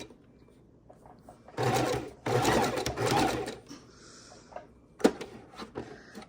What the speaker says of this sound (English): As we're sewing the bottom here, I like to have needle down, foot up, pivot a little bit